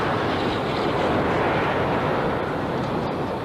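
Rocket engines ignite at launch for a Moon landing mission, a broad, dense roar of rushing noise that holds steady and powerful from start to finish with no voices.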